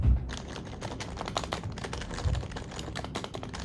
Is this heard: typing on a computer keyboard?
yes